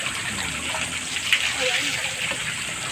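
Natural spring water pours in a steady, close gush, running continuously with a faint splash at one moment and no talking over it.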